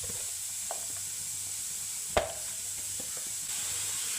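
Chopped onion hits oil in a pan for an egg thoran, giving a steady soft sizzle with a few light stirring clinks and one sharp knock near the middle, no voices.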